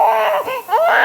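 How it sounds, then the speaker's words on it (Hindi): Baby crying loudly and close by in short wailing bursts with a brief break between cries, heard in a tense indoor drama scene. "बच्चा रो रहा है यार।"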